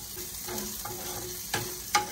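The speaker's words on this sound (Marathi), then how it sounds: "कुरकुरीत होईपर्यंत आपल्याला कांदा तळून घ्यायचा आहे" Onion frying in a pan until crispy for an egg korma, a soft, low sizzle close up, with a few brief louder stirring scrapes near the end.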